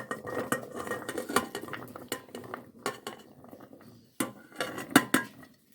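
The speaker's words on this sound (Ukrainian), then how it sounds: "кидаю в каструлю" Pumpkin cubes clatter into a metal pot in a few quick bursts, with scraping and clinking of a utensil against the pan between drops.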